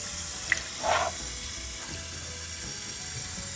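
Shower water rinses a hedgehog, giving a steady close hiss of spray with a brief splashing swell and faint clicks, and no talk.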